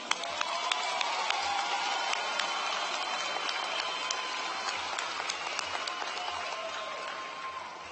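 A crowd applauds at a high school graduation ceremony, with sustained, even clapping that holds a steady level and softens slightly toward the end, and with scattered crisp individual claps standing out.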